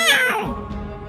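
A person imitates a cat's meow in a cartoon, a single drawn-out, falling mew that is loud and close, then fades into quiet background.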